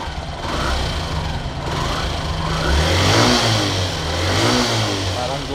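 A Yamaha YTX motorcycle engine runs steadily at close range, with a rough mid-range drone and low throbbing pulses that swell slightly as it revs midway. It is fitted with a newly installed vacuum fuel cock as a fix for an overflowing carburetor.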